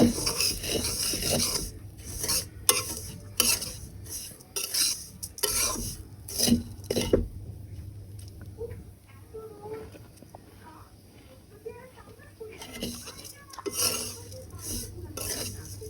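Dry laccha semai noodles are stirred in a pan over low heat, with repeated scraping and rasping strokes of a utensil against metal, loud in bursts, then quieter in the middle before picking up again.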